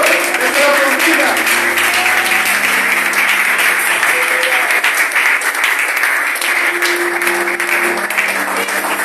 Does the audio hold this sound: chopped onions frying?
no